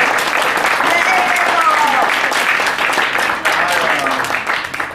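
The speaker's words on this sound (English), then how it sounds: "Would you give her a big round of applause?" At a live event, an audience breaks into loud, dense applause that fills the room steadily for several seconds before starting to fade, with voices and cheers mixed in.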